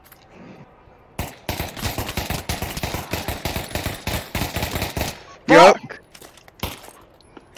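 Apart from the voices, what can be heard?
gunfire from guns in the video game Pavlov VR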